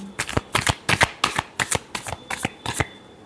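Tarot cards are riffled in a close, crisp shuffle, with about eight quick rhythmic bursts of flapping cards and no talk over them.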